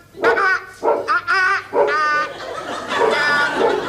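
A dog barks several times in quick bursts, loud and close, with a few whiny yips between barks and no talking.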